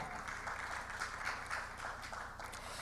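An audience at a journalism innovation panel applauds a panelist joining online, a dense, fairly faint wash of clapping that holds steady throughout.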